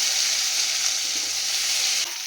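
Onion and capsicum with chopped ginger and garlic sizzle steadily in hot oil, a dense, continuous close-up hiss that drops slightly near the end.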